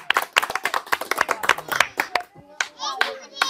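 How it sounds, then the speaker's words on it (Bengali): A quick burst of hand clapping for a contestant at a village game challenge, sharp claps in a rapid run, then a few scattered ones as a voice and other talk break through near the end. "তার জন্য একটা হাততালি হয়ে যাক।"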